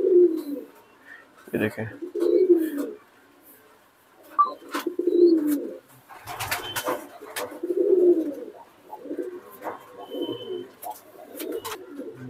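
Dark, deep-coloured pigeons kept as a hobby in R.S. Pura, Jammu, coo in repeated throaty phrases, about one every two seconds, close at hand while someone talks intermittently over them.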